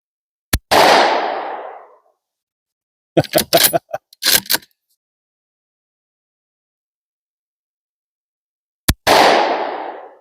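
A Romanian PSL rifle fires two loud, sharp shots several seconds apart, each followed by a rolling echo tail. A brief cluster of clicks and handling noises falls between them, with silence otherwise.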